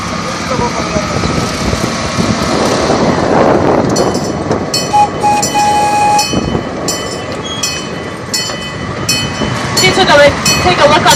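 A safari park train rolls across a trestle with a steady loud rumble and rattling wheels, metallic squeals and clacks rising toward the end, while a guide speaks over a public address.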